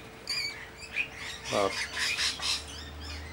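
A flock of about 35 to 40 birds of several species at a garden bird sanctuary on a rainy day, squawking and chirping in quick overlapping calls close by, over a faint low hum.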